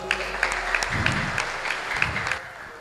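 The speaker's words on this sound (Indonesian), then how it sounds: "Berikan aplaus buat beliau." An audience at a motivational seminar in Purworejo applauds, a short burst of clapping from a roomful of people that swells briefly and then tapers off.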